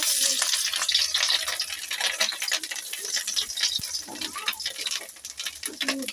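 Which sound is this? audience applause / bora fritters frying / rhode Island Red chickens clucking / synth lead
bora fritters frying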